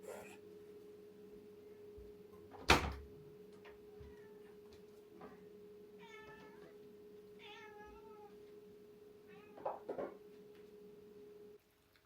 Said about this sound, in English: Cat mukbang.